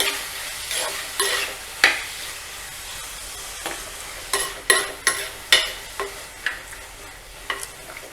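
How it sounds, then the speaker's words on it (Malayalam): Tomato curry with turmeric being stirred in a frying pan, a spoon scraping in a series of sharp, close strokes, faster toward the end, over a soft sizzle. "നമുക്ക് ഒരു ടീസ്പൂൺ മഞ്ഞൾപ്പൊടി ഇടാം ഇത് നന്നായിട്ട് ഇളക്കാം"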